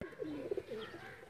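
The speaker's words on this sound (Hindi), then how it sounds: "तो हमारे दोस्तों ने ये पकड़ के यहाँ इंडिया के कबूतर आए हुए रखे हुए हैं।" Indian pigeons kept on a rooftop in Sialkot cooing softly and close by in a short, low, throaty burst.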